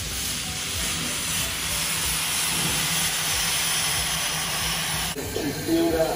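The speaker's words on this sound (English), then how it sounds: "Look at all that steam coming from James." Steam hisses loud and continuous from a real steam locomotive styled as Thomas the Tank Engine's friend James, with a brief break and some clanking near the end.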